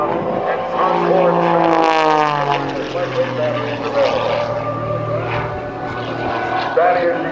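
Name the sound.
red and white Extra 300S aerobatic propeller airplane flying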